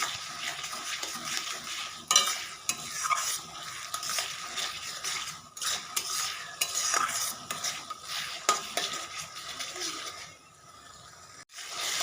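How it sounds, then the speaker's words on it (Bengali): Ginger-garlic paste frying in a pan for a village-style chicken curry, soft sizzling broken by frequent spatula scrapes and metal clinks against the pan, close, easing off near the end with no talking. "দিয়ে যতক্ষণ আদা রসুনের কাঁচা গন্ধ ভাবটা না যাচ্ছে ততক্ষণ একটু ভেজে নিতে হবে।"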